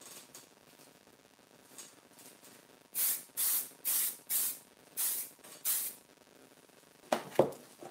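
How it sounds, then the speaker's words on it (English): Aerosol fixative hissing over a chalk pastel drawing in six evenly spaced bursts, each about half a second long, loud and close in an otherwise quiet room, ending with a couple of sharp handling knocks. "Okay, so spray fix. It's gonna be the last one."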